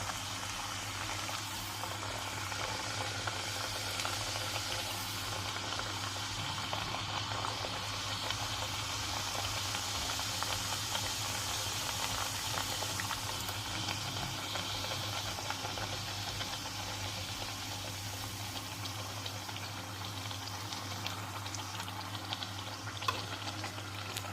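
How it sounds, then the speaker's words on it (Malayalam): Pathiri deep-frying in hot coconut oil, a continuous bubbling sizzle that holds steady throughout under a low constant hum, with no voices. "ഇപ്പോൾ പത്തിരി പൊരിക്കാൻ വേണ്ടി എണ്ണ വെച്ചിട്ടുള്ള ചൂടായിട്ടുണ്ട്"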